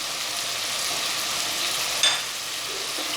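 Tomatoes with red Kashmiri chili, crushed chili, roasted cumin and coriander sautéing in mustard oil over medium heat, a steady close hiss of frying broken by one brief stirring clatter.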